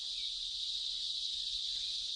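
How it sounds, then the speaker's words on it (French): A continuous, shrill cicada mating buzz, steady and unbroken, droning loudly without pause. "Ce craquettement est amplifié lorsqu'il traverse tout son corps."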